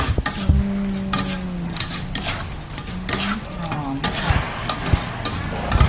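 Thai beef larb is tossed with toasted rice in a bowl, giving repeated scraping and clinking of a utensil against the dish, with someone talking over the mixing.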